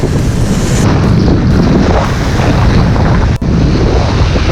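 Strong wind buffets the microphone at the sea shore during a windy bass lure fishing outing, a loud continuous roar with surf and waves mixed in, steady throughout with one brief dip near the end.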